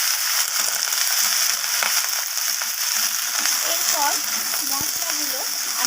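Spices including chilli and cumin powder frying in a pan with bitter gourd and prawns, a dense continuous sizzle with spatula stirring, while a voice talks over it toward the end.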